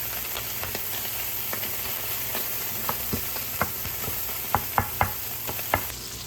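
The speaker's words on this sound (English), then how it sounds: "first we're going to cook some Italian sausage" Italian sausage, casings removed and broken into small pieces, fries in a pan with a steady close sizzle and occasional sharp taps and scrapes of stirring, no talk.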